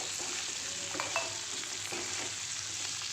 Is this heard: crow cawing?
no